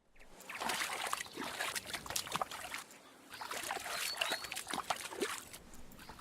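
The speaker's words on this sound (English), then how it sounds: "even re-recording my water sounds in a local stream" Water in a local stream trickles and splashes close by, with irregular bursts of bubbling and spattering over a quiet background, rising and dipping in short waves.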